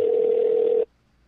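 A single steady telephone ring tone on an outgoing call sounds for under a second, close and loud, then cuts off abruptly into near silence.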